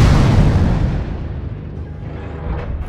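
Missile explosions in the MechWarrior Online video game, a loud, deep boom that rolls out and slowly decays into a low rumble over a few seconds.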